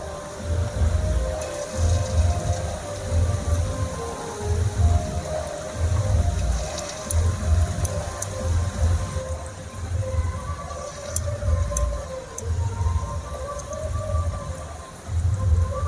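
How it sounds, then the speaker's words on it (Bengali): Jackfruit pakoras sizzle and bubble steadily in hot white oil in a pan, a close, constant crackling fry with a pulsing low rumble beneath. "তেলটা হালকা গরম হয়ে গিয়েছে, এবারে আমি পকোড়াগুলো ভেজে নেব।"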